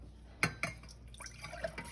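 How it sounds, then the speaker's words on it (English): A cup of milk poured into a pan, heard as a few soft liquid splashes and drips against a faint background, close by and quiet. "you're going to pour it into the pan."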